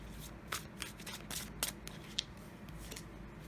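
Tarot cards are shuffled by hand in quick, crisp riffling bursts, with soft card slaps and slides as cards are drawn, close and fairly quiet.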